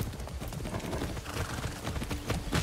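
Horse hooves clip-clop steadily in a video game, a continuous rhythmic trotting close up, with no speech over it.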